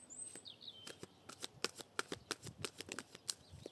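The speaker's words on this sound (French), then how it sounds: "on va tirer quelques cartes." Tarot cards being shuffled by hand in a quiet room: a steady run of crisp, close riffling snaps and flicks, slightly uneven in rhythm, with no talking.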